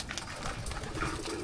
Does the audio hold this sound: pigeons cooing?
yes